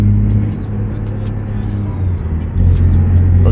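Kenworth T660 truck in American Truck Simulator hauling about 22 tonnes, its engine droning loudly and steadily, then swelling a little near the end as it accelerates.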